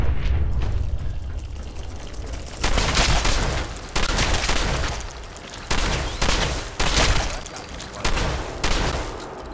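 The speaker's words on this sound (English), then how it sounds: "More car explosions." Several car explosions in the video game Fallout 4 go off one after another: loud booming bursts at uneven intervals, each with a sharp attack followed by rumbling decay, with faint background game noise between them.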